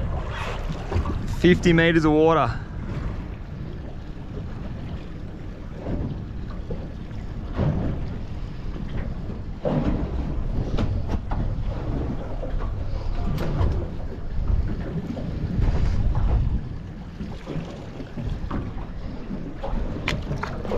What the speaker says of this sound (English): put that engine in reverse